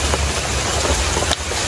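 Rain falls steadily in a village, a broad, even hiss of drops on surfaces with a low rumble underneath.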